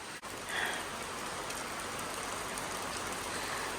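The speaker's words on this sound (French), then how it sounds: "on a été surpris par la pluie" Steady rain falling outdoors in French Polynesia, a dense even hiss that holds at a constant moderate level throughout, with no voices over it.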